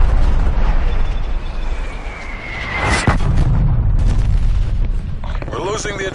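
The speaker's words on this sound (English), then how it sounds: "Incoming artillery." Heavy artillery explosions in Call of Duty: Black Ops Cold War multiplayer, deep booming blasts and rumbling debris with a sharp crack midway, mixed with game announcer voice lines and loud battle noise.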